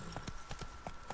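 Roach the horse's hooves clop in a quick galloping rhythm in The Witcher 3, several distinct thuds over steady outdoor ambience.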